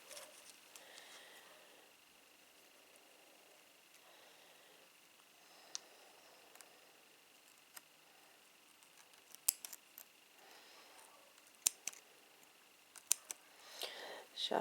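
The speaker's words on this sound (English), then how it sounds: "I'm not going to cut too closely" Scissors snip around a purple lace acrylic nail design: sparse, sharp, close clicks scattered irregularly over a quiet background, with soft speech in between.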